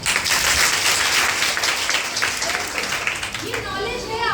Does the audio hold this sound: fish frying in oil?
no